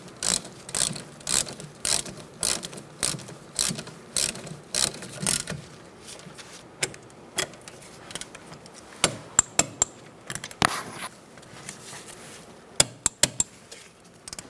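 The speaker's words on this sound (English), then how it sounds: "I'm going to snug these up and then we're going to torque them to 20 foot-pounds." Ratchet clicking in bursts as rear brake caliper pins are snugged up on a 2004-2009 Mazda 3, sharp close ticks in quick repeated runs with short pauses, a few louder metallic taps near the end.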